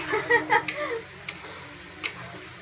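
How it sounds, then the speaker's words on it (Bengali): Spatula stirring food in a pan in a home kitchen, a few quick scraping strokes with light sizzling, followed by two sharp isolated clinks; close and fairly quiet. "খালি আমি একটু খুন্তি নাড়বো ব্যাস"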